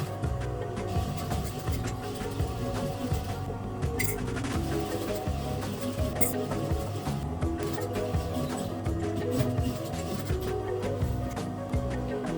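A sewing machine stitches a zipper fly into a pair of pants, a steady dense mechanical whir running without pause at moderate level.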